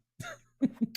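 A short burst of coughing: one rough cough followed by two quick harsh hacks, close and fairly quiet.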